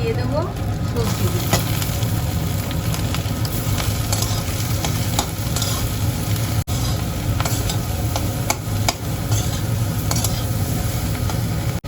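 Vegetables dropped into a wok after eggs are fried hiss in a loud, dense, continuous sizzle, with scattered stirring scrapes and clicks across the whole stretch.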